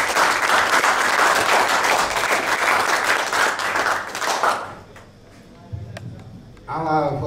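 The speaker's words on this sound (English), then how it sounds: "a really nice, enthusiastic, beautiful round of applause for Uncle Trevor French" At a cultural showcase, an audience bursts into loud applause and cheering for Uncle Trevor French for about four seconds, then it fades out and a voice begins speaking.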